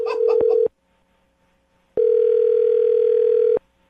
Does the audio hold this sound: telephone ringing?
yes